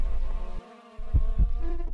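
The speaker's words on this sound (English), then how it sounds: "Why are there so many flies?" Flies buzzing in the Minecraft video game, a close, continuous droning hum lasting a couple of seconds with a short gap and a few thumping beats underneath.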